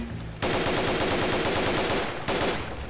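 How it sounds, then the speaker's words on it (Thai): Rapid automatic gunfire in a Roblox Squid Game match, a loud continuous burst of evenly spaced shots lasting nearly two seconds, a brief pause, then another burst begins. "ยิงกระจุยยิงกระจุยยิงกระจุย"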